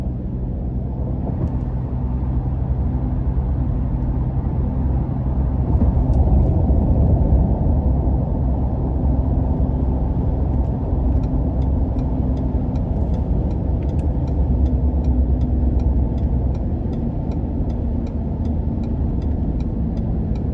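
A 2019 Ford F-150 Raptor heard from the cabin while driving, giving a steady low engine and road drone with a slight swell in the middle as the gears change.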